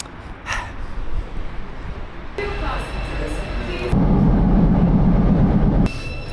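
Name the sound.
riding metro and train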